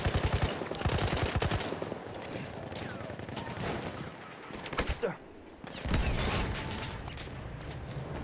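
Battlefield 1 gameplay with heavy gunfire: rapid bursts of loud shots and cannon blasts rattle in dense volleys, briefly pause, then resume with continued firing.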